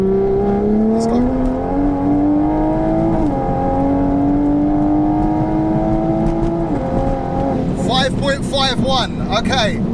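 A 760 bhp Toyota Supra MK5 with a manual gearbox pulls hard in fourth gear, its engine roaring loud and close as the revs climb steadily, with brief dips and then a burst of fluttering, popping turbo sounds at the end.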